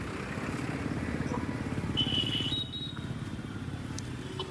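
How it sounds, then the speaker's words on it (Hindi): A motorbike carries a rider on a road. The engine drones loudly and steadily, with wind and road noise, for the whole stretch. "बाइक से आए थे, बाइक से जा रहे हैं।"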